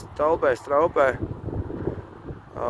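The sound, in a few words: headwind blowing into microphone while riding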